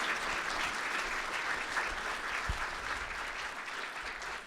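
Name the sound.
audience round of applause after presentation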